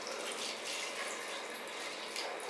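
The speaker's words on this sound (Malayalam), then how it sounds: "അപ്പം അതിനാവശ്യമായിട്ട് മാത്രം നമ്മൾ കുറച്ച് വെള്ളം ഒഴിക്കുക" Water pours into a pressure cooker while elephant yam pickle is being made, giving a steady, close hiss of splashing liquid that runs without a break and with no voices.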